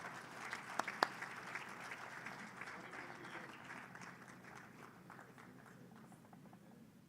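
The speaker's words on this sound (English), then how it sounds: "Can we please welcome with a warm round of applause?" A seated audience at the FICCI-EY Media & Entertainment report release and BAF Awards 2025 gives a warm round of applause for a minister. A few sharp claps open it, then a soft, steady patter that gradually fades, heard from some distance.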